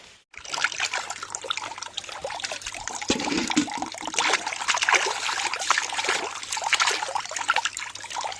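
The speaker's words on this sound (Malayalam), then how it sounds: "നല്ലപോലെ മണ്ണങ്ങ് ഉരച്ച് തേച്ച് കഴുകുക." A medicinal plant root is washed under running water and rubbed to scrub off soil, giving a steady close trickle and splash of water throughout, with no talking.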